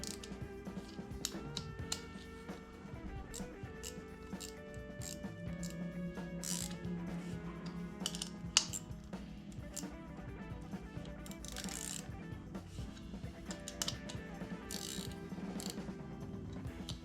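A ratchet tightens the fuel pump bolts on a Honda Fury motorcycle, a long run of rapid clicking pawl bursts with short pauses between, close up and moderately quiet, without talking.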